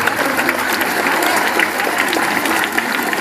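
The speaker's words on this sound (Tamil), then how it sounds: "கை தட்டும் போது உங்க கையை பார்த்து தட்டுங்களேன்." An audience at a polytechnic college awareness event in Karaikal claps hands in a continuous, even burst of applause, close and full, with no talk over it.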